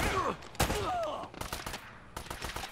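Gunfire in the video game Uncharted: rapid bursts of shots crackle close by, mixed with brief whistling tones at the start and several sharp cracks later.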